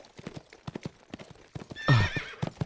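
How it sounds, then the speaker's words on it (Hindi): A cartoon horse whinnies loudly and its hooves clop in a rapid, uneven rhythm as it loses its balance leaving a royal palace, the neigh rising sharply near the end. "अचानक से राजा अमर का घोड़ा अपना बैलेंस खो देता है।"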